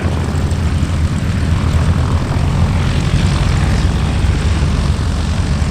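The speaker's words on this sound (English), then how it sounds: "there's a flight of 4 Mustangs going into the overhead runway 36 left." Propeller-driven P-51 Mustang fighters drone loudly and steadily at an airshow in Oshkosh, a dense continuous engine roar with no voices.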